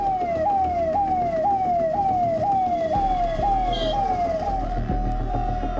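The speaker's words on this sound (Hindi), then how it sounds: "इस ट्रैफिक जाम में एक एम्बुलेंस भी फंस गई।" An ambulance siren wails steadily with a repeating rising sweep, caught in a traffic jam at the Delhi–Ghaziabad border during a farmers' protest, over a constant rumble of idling vehicles and road noise.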